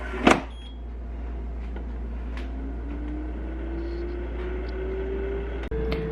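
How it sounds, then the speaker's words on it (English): An air fryer set to 375 degrees cooking roast beef and cheddar sandwiches, giving a steady motor hum and fan whir with a tone that slowly rises, after a sharp click at the start and a brief dropout near the end. "air fryer here set to 375, and I'm going to cook these for about 14 to 15 minutes"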